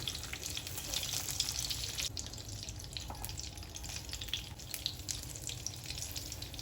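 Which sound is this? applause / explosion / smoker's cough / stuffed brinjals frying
stuffed brinjals frying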